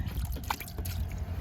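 Water dripping from a soaked scooter helmet taken out of the rear storage box: faint, close, irregular drips and small trickles over a low background rumble, with no speech.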